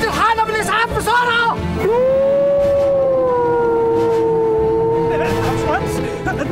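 Ambulance siren wailing loud and close, a long sustained rising and falling tone after shouted voices, with excited talk over the start and end.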